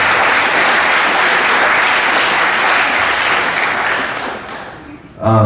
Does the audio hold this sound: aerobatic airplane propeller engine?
no